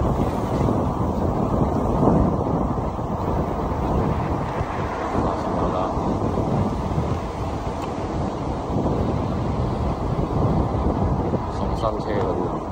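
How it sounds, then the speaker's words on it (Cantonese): Steady wind rush buffets the microphone while riding an electric motorbike at about 30 km/h along a road in Zhongshan, a constant roar throughout with a voice talking underneath. "咁而家30公里揸電單車"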